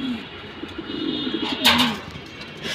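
Pigeons coo softly and close by in low, rolling phrases, with a brief rustle or flutter midway through a quiet indoor setting.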